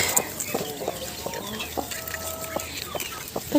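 A hen clucks repeatedly near newly hatched guinea fowl keets in a cold autumn coop, with short clucks in an irregular rhythm and thin high peeping from the chicks.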